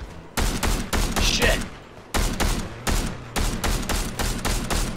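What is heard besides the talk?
gunfire in Fortnite video game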